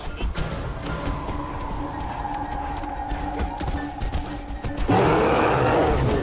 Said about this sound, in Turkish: Bir ayı sesi var.